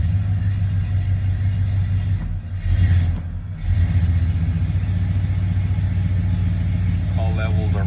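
A 1986 Ford F250 with a 460 engine idles steadily and loud up close, a deep continuous rumble with a brief dip and surge midway; a few faint voice-like tones surface near the end.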